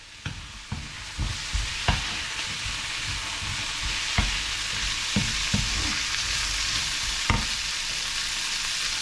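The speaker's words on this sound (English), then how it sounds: "I'm going to stir this lot about and get it nice and soft" Noodle stir-fry being stirred in a sizzling pan, a steady loud frying hiss with repeated scraping stirs and clanks throughout, close up and without talk.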